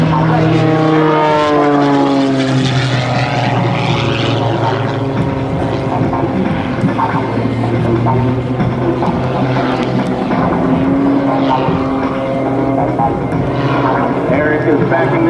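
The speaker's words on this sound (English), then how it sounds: "Eric is backing this aircraft up in the tail slide over 80 miles an hour tail first." Aerobatic propeller airplane sliding tail first in a tail slide at an air national guard open house, its engine droning loud and steady with shifting pitch while a commentator talks over it throughout.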